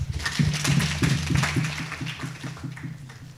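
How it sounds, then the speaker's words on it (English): Workshop audience at a chemical management launch claps for a professor, distinct individual claps forming a loose rhythm that is sharp at first and gradually thins and softens. "Let's clap for Prof."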